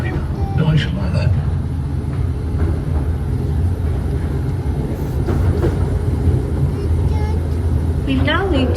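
A Mail Rail miniature post train rumbles through its tunnel at the London Postal Museum: a steady, loud low roar with faint rail squeals, with brief talk near the start.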